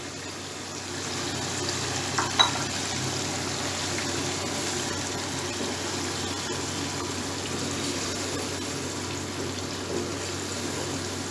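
Tomato puree goes into goat liver kaleji frying in a pan, producing a steady, even sizzle with faint wet bubbling and a couple of small clinks, close and continuous, with no talk.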